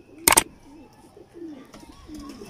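An old Kasuri pigeon, jet black with a silver ring, gives soft, low repeated coos close by, broken by a sharp flutter or clap near the start; no one speaks.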